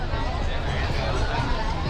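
A crowded street in Ho Chi Minh City during Tet, a dense, continuous babble of many voices and street bustle, with a nearby voice talking over it.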